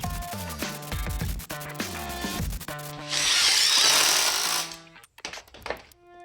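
Close and loud, an impact driver sinks drywall screws into wood, with short whirring bursts followed by a sustained hammering rattle as a screw drives home, then stopping. No one speaks.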